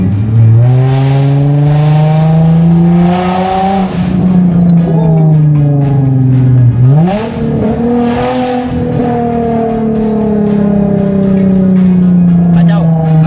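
A car engine revs up and down repeatedly, loud and close, the pitch climbing and dropping in long sweeps with a brief dip in between.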